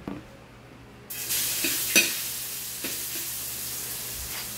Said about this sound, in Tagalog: Lagyan na po niya ng mantika yung kawali. Sunod po ay bawang.